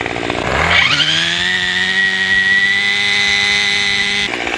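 A Cub Cadet BC 280 string trimmer engine revs up and then drones steadily at high speed, loud and close, with a whining motor tone.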